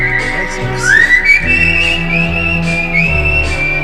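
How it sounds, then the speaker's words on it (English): Whistling with vibrato carries the melody of a Japanese pop song, sustained and wavering, over a full band backing track with a steady bass line. "Hey, he's whistling."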